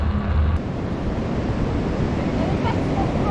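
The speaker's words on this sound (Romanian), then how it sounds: "uite ce valuri mari" Large ocean waves break on a beach below sand dunes in a steady, heavy roar, with wind buffeting the microphone and a brief voice at the start.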